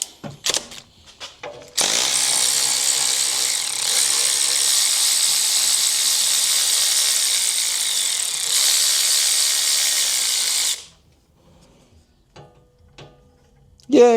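A tight 14 mm bolt is worked loose during a Nissan Skyline R32 sedan engine swap, giving a loud, steady mechanical whirring that runs for about nine seconds before cutting off, with brief clicks around it.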